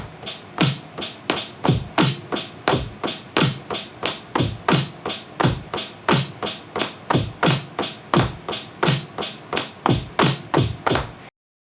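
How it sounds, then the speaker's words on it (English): A basic drum beat recorded on a MIDI controller for an indie pop song, playing as a steady, loud run of evenly spaced hits, with kick thumps and bright cymbal or hi-hat strikes repeating at a quick pace without pause. "we're just gonna go ahead and start recording a drum beat, a basic drum beat"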